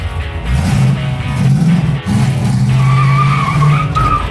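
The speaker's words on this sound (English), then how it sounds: "I always like it when your very first 2 feet of driving a vehicle are burnout." A rear-engine mini truck does a burnout on its first few feet of driving, its engine revving hard under continuous close tire squeal and skidding, briefly dipping before resuming.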